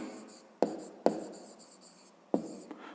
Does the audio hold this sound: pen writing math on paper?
yes